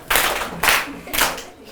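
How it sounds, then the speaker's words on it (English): Children in a classroom clap together in three loud, evenly spaced bursts, a brief rhythmic group clap rather than sustained applause. "Everybody clap,"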